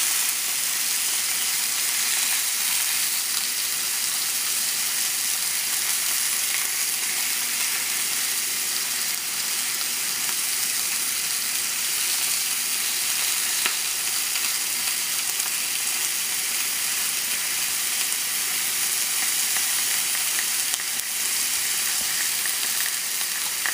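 Tandoori chicken sizzling on a grill, a steady, dense hiss of frying that stays loud and even throughout with no breaks and no talking.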